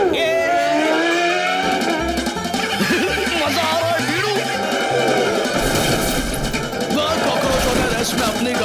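A cartoon car in Oggy and the Cockroaches accelerates hard and races, its engine roaring continuously with tire squeals and skids layered over a busy, loud soundtrack.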